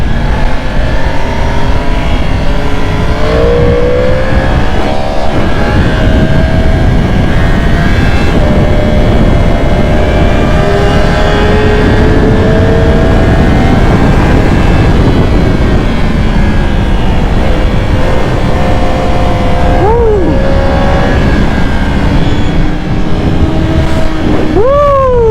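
Group of superbikes at an informal meet, engines revving hard and riding past: loud, continuous high-pitched engine whine with sweeping pitch rises and drops, one bike after another, close to the microphone and without talk.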